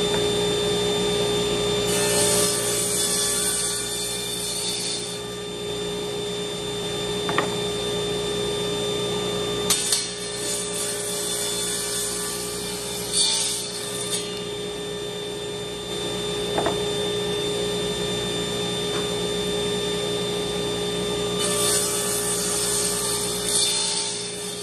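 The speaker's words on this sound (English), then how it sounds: "we're going to run them through the table saw" A table saw runs with a steady high whine while wood boards are crosscut on a crosscut sled, several louder, rasping cutting passes rising over the constant motor drone.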